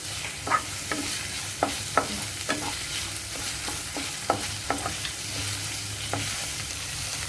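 Chopped onions frying in a pan with garlic and ginger for a spicy ivy gourd curry, with a steady close sizzle and sharp, irregular spatula clicks and scrapes as the pan is stirred.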